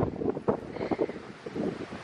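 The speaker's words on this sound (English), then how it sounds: "It's because it's so much wind out here." Gusty wind roars and buffets the microphone outdoors over snowdrifts, a steady rushing noise with louder bursts throughout.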